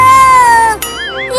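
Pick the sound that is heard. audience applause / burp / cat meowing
cat meowing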